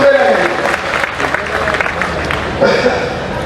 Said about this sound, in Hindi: ताली ऐसे नहीं जोर से बजा।